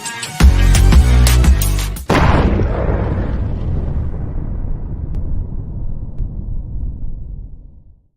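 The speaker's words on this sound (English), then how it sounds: "Was there always an explosion at the end?" A loud show-closing explosion sound effect: rapid crackling bursts for about two seconds, then a second heavy boom whose rumbling roar slowly fades out over several seconds, with no talk.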